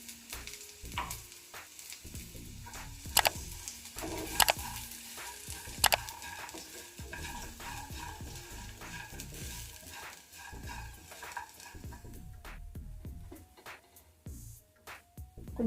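A spatula stirs ground garlic chili powder and turmeric into fried corn in a hot pan: a steady sizzle with repeated scraping strokes and a few sharp clinks against the pan, close by and with no talking.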